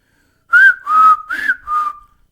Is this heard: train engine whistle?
yes